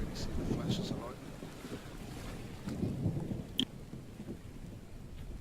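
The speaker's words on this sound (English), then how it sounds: "There is actually a storm going on at the moment, but it's a distant storm. So you can probably hear the rumbles" Distant thunder from a storm rolls in low, soft swells through the windy, wave-like outdoor ambience of the survival game Jaws of Extinction, with no lightning cracks close by.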